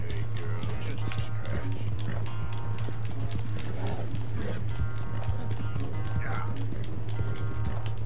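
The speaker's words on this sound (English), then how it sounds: "Damn horse acting up on me of all the times." Horse hooves clip-clop steadily in Red Dead Redemption 2 gameplay, a galloping rhythm with an occasional whinny over a constant low hum, while someone talks over it.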